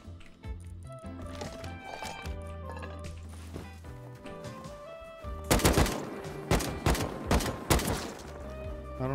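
Gunfire rattles in the video game Rust, with dense bursts of shots over busy game audio and music, building into a heavy volley in the second half.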